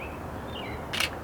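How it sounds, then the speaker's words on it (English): A camera shutter fires once near the end, a single short, bright mechanical click that opens and closes quickly against a faint, quiet background. "It's opening and shutting real quick."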